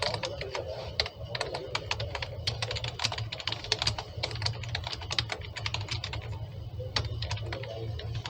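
Rapid, steady clatter of fingers typing code on a computer keyboard, close and fairly loud, with irregular key strikes over a low steady background hum and no talk.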